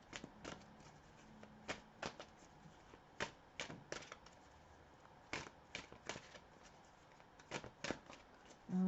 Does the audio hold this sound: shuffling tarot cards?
yes